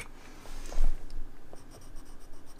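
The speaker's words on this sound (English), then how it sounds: "So what sharpens these pencils? My favorite pencil sharpener." A large Cretacolor Megacolor colored pencil is turned in a wide-hole hand sharpener, producing close, scratchy grinding scrapes in uneven bursts with one louder crunch near the start.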